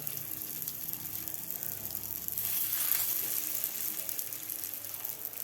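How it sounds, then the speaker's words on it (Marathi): Beetroot cutlets fry in a lightly oiled pan, giving a steady soft sizzle with a faint hiss that swells slightly midway, with no voices over it. "यावर आता आपल्याला हे बनवून घेतलेले कटलेट फ्राय करून घ्यायचे आहेत"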